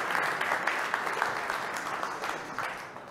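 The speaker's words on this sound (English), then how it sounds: "Let's give them a big round of applause." Audience at a developer-platform keynote gives a steady round of applause, dense clapping that stays fairly loud throughout and tapers slightly at the end.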